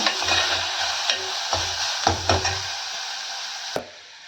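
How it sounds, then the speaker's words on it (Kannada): Vegetables for a barley rice soup frying over medium heat in a pan, a steady close sizzle broken by several sharp scraping stirs and one loud clatter near the end, with no talk. "ಮೀಡಿಯಮ್ ಊರಿನಲ್ಲಿ ಸ್ವಲ್ಪ ಫ್ರೈ ಮಾಡ್ಕೋಬೇಕು ಹೀಗೆ"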